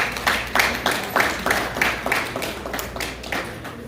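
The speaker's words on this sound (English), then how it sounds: "I say clap for yourselves." Audience clapping at a Gambian 60th independence celebration in Reading, Pennsylvania: a crowd's steady, dense applause holds loud and close with rhythmic swells throughout, with no talk over it.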